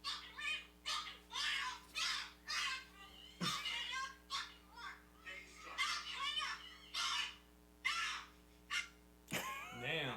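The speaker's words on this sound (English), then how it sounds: "That bird's pissed." An agitated crow caws over and over in harsh, rapid bursts, loud and close, a few sharp knocks breaking in between the calls.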